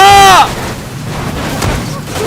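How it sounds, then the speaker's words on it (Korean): Explosions burst in a PUBG match, a loud blast opening the clip and then fading into a rumbling, crackling tail with scattered distant pops and thuds. "폭죽놀이야"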